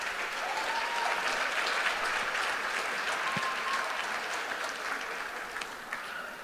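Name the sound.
crowd applause for Titusville seniors at basketball game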